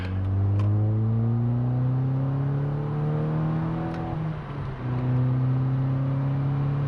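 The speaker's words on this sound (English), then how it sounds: "let's floor it for the first time" A Volkswagen Scirocco R engine revs hard at full throttle and holds at high speed, its pitch climbing steadily, briefly dipping, then surging again, close and loud with no talking.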